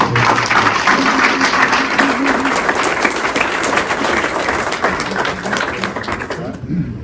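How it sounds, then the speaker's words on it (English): Sustained audience applause fills the room at a baseball team banquet, steady and dense from start to finish with a few voices mixed in, cutting off abruptly near the end. "Cody Fey, round of applause."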